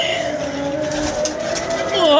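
Pigeons cooing at a pigeon-keeping loft, soft repeated low coos with a steady background hum and some bird chatter, fairly close.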